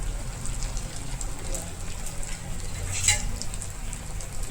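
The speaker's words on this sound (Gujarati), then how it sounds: "મીડિયમ ગેસ ઉપર જ વ્હીલને તળશો" Snack wheels fry in hot oil in a kadai on a low-to-medium gas flame, with a continuous soft bubbling sizzle that stays close and even and swells briefly near the end.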